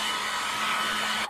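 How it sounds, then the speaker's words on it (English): A hair dryer blows hot air onto a leather Brooks B66 bicycle saddle to melt old grease, a steady, close, airy whoosh with a faint motor hum underneath that cuts off abruptly at the end. "After a long session with the hair dryer,"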